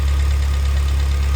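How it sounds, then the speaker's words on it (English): Radiator cooling fans on a 2018 Subaru BRZ whir steadily beside the running engine, a loud, constant close-up drone and hum with no break over the short span. "Fans just kicked on."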